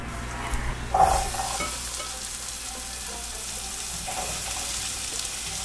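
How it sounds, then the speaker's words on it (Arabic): Fava beans hit a hot pan in a Hijazi-style breakfast kitchen, giving a steady, close sizzle and frying hiss that holds throughout, with a brief louder splash of stirring near the start. "طيب دحين نبدأ نحط الفول."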